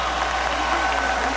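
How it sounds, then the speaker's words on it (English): Boxing arena crowd in a steady, dense wash of applause and cheering, loud and unbroken for a brief moment with no distinct voices on top. "A round of applause for both of these gladiators."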